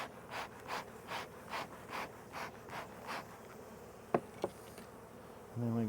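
Bees buzz close by at a double-deep beehive, with rhythmic pulses of buzzing rising and falling, faint overall, followed by a couple of sharp clicks near the end.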